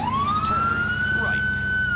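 A police car siren in the LCPDFR video game wails loud and near with a rising, sustained tone that holds steady across the whole stretch, with no talking over it.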